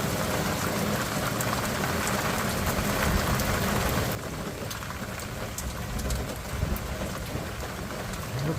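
Heavy rain pounds outside a 2007 Chevrolet Silverado HD, a dense steady roar that softens abruptly midway into a lighter but continuous patter.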